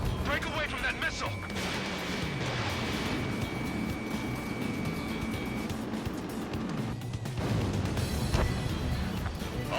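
Missile explosions and aerial combat in the jet fighter game Ace Combat 7, with rumbling blasts, a thin warning tone and engine roar layered under continuous radio chatter from pilots.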